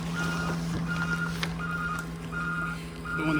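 A big truck at a landfill dump sounds its reversing alarm, five evenly spaced beeps repeating at a moderate distance over a low engine drone.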